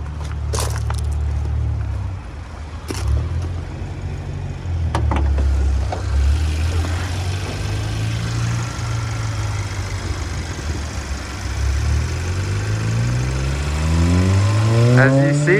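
A 2012 Kia Optima SX's turbocharged GDI 2.0 liter engine idles with a low, steady rumble, occasionally rising in pitch as it revs, with other background noise around it.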